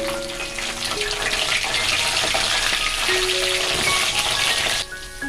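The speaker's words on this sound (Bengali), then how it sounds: "এবার ফুলকপিগুলো দিয়ে দেব তেলের মধ্যে" Cauliflower sizzles and crackles steadily in hot oil, a constant frying hiss with faint tonal sounds drifting in the background.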